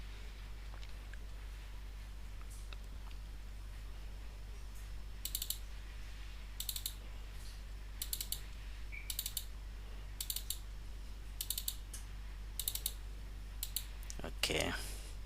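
A computer mouse and keyboard click in a quiet room, a series of about nine sharp, evenly spaced clicks over a steady low hum, with a louder rustle near the end.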